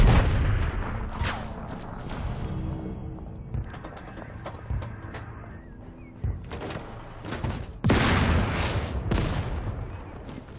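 Cannon artillery fires in the tank strategy video game Total Tank Generals, with repeated booming blasts and rumbling explosions scattered over a continuous battle din, some shots close and loud, others softer.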